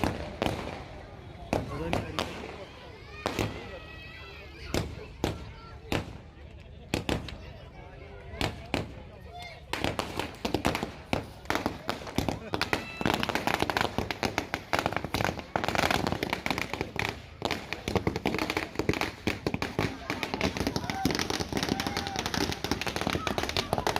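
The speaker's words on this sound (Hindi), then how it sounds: "आतिशबाजी के पटाखे फोड़ने शुरू कर दिए" Firecrackers and fireworks burst at a wedding celebration, scattered sharp bangs at first, then a dense rapid crackling barrage of loud pops, with people talking in the background.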